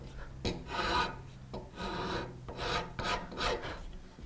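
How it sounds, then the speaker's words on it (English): A hand file is drawn over a carved wooden ball and claw foot in repeated back-and-forth rasping strokes. Each stroke makes a close, scratchy rub in a steady rhythm, with no voices. "we want to file it and just remove some of those"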